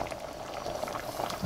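Southern potato soup boils in a pot with a steady, dense bubbling and gurgling, close and continuous through the whole short stretch, with no voices.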